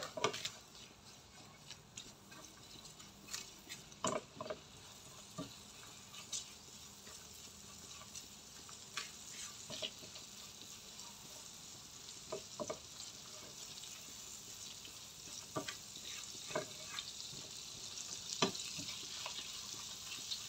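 Garlic and ginger fry in a pan for squid cooking, a steady close sizzle broken by scattered clinks and scrapes of a spatula stirring against the metal.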